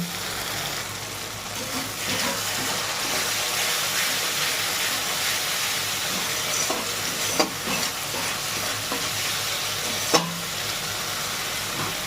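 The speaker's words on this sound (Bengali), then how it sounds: "এবার এটা কষিয়ে নেব বন্ধুরা দেখুন কীরকম মশলা থেকে তেলটা ছেড়ে আসছে" Spice masala for potol chingri, pointed gourd with prawns, sautés in oil with a steady, close hiss and sizzle that runs throughout, broken by a couple of sharp spatula clicks.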